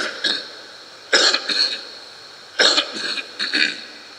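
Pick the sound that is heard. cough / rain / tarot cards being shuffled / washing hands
cough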